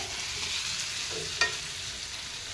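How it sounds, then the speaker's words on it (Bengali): Potatoes for aloo bhaji fry softly in a pan, a faint continuous sizzle with one brief stirring clatter, close and without voices. "এয়া আলু ভাজি বনাইছোঁ এনেদৰে"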